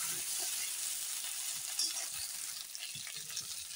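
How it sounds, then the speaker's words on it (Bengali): Potatoes fry in hot oil with spices, giving a soft, steady sizzle with small crackles and occasional stirring scrapes, quiet and close with no talk. "এখন দেখো ভেজে নিই।"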